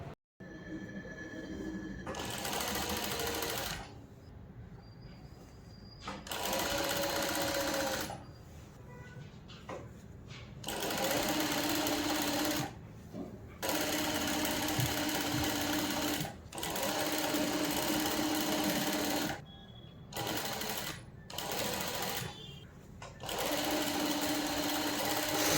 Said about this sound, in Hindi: और फिर सब एक साथ सब प्लीट्स को मैं सिलाई दूंगी